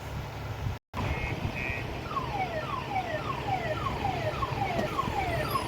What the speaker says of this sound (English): I've never heard a car alarm used to signal people that a big truck is backing up.